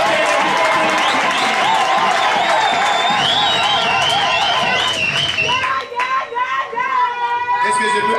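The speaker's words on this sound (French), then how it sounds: "Applaudissez pour vous-même." A church congregation at a pastors' ordination service in Kitwe claps and cheers loudly and steadily, with a bright sustained tone ringing over the crowd and voices mixed through the applause.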